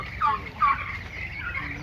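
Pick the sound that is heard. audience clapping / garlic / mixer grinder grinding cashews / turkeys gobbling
turkeys gobbling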